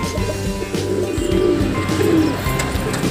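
Pigeons coo at close range outdoors, a couple of soft rolling calls rising over a steady background hum.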